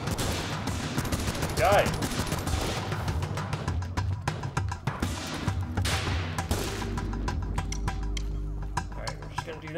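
Rapid gunfire crackles from the top-down video game Ape Out, with bursts of shots and clinking impacts scattered across the scene while a player talks and shouts over it.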